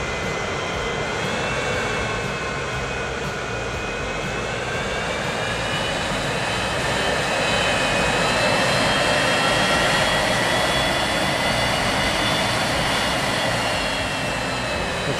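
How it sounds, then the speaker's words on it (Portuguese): Continuous loud airplane engine drone with a steady high whine on top from the video game Transport Fever 2, holding evenly throughout, no voices. "Ainda de avião voando."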